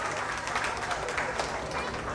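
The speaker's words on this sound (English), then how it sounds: "So give Ascot a round of applause for me once more." An audience claps for Ascot High School at an Independence Day talent show in Portmore, steady dense applause heard close throughout, with a voice speaking over it.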